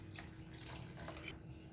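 Water pours into a pan of egg curry masala for a Kerala-style roasted-coconut egg curry, a quiet, steady splashing stream lasting a moment before stopping.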